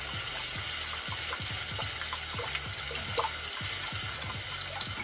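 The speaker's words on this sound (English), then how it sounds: "you've got this open water line spraying up under the house" Pressurized water sprays steadily from a broken water line under a house, found by tunneling for a slab leak, a continuous hissing rush with faint rhythmic knocks underneath.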